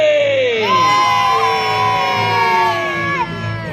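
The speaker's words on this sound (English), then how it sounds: "I expect to hear the biggest, loudest cheer for the Warwick Castle" A crowd at Warwick Castle cheers for the trebuchet, loud whoops and high shouts rising together and holding steady, with children's voices prominent.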